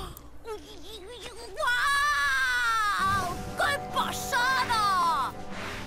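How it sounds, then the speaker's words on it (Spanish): A character's loud, warbling shout from the Inazuma Eleven 3 video game, rising sharply and holding high for several seconds over game music, with a softer vocal sound before it. "Siento que el grito no concordó con la animación"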